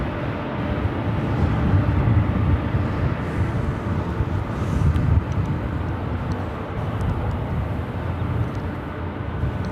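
A Southwest Airlines Boeing 737-800 jet at LAX gives off a loud, steady engine roar with gusty wind buffeting the microphone throughout.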